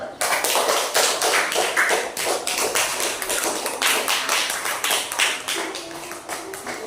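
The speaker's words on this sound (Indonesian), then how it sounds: "Tepuk tangan dulu." A classroom of students claps for a student group: a dense, steady patter of hand claps that holds for several seconds and tapers slightly at the end.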